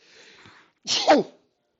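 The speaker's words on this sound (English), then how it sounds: "I'm going to sneeze." A single person's sneeze comes up close and loud, after a soft breathy intake.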